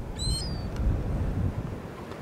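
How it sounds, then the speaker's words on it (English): A single short gull call cuts briefly through steady wind noise in the coastal dunes of the Netherlands, then only the wind remains. "real seagulls from the Netherlands."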